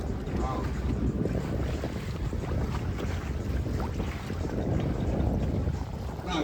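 Duk Ling, a traditional fishing boat, cruises through Victoria Harbour in Hong Kong at dusk, its steady broadband rumble of engine and water blending with continuous wind buffeting the microphone, with faint talk in the background.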